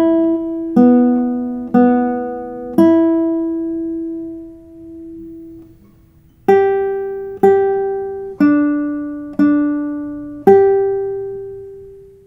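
Guitar notes picked on two strings, each plucked clearly and ringing out alone, with a short phrase of four notes, a pause, then a second phrase of five.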